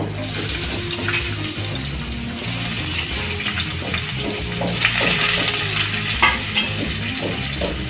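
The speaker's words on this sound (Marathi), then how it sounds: "आता टाकणार आपण कांदा" Onion dropped into hot oil with garlic cloves, frying with a steady, loud sizzle and scraping stir strokes while a traditional Maharashtrian alu leaf curry is cooked; no talk.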